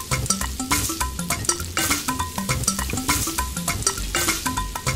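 Food cooks in a pan in a video game, with busy stirring, scraping and clinks of utensil against pan over a steady sizzle, in rhythmic repeated strokes with no voices.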